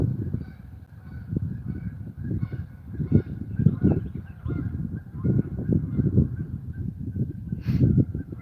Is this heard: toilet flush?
no